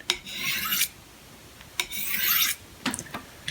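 A knife edge is drawn along a sharpening rod in a kitchen: two long, steady rasping strokes of about a second each, close and fairly loud, followed by a few shorter scraping touches, with no talk.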